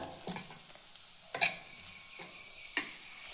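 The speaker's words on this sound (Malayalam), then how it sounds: "മുളക് ഒന്ന് പച്ചമണം മാറി വരിക വേണ്ടോ അതുവരെ ഒന്ന് ജസ്റ്റ് ഒന്ന് മൂപ്പിച്ച് കൊടുക്കുക" Chillies frying in coconut oil, with a soft, steady sizzle and a few sharp utensil scrapes against the pan, close and fairly quiet.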